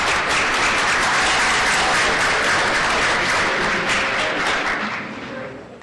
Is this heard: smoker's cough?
no